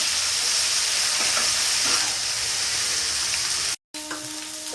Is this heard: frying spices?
yes